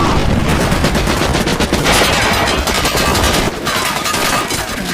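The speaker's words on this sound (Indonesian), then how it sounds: "Rentetan tembakan terus menghujani Atami" Rapid bursts of gunfire rattle through a film scene, dense overlapping shots fired continuously and loud for the whole stretch, with no talk.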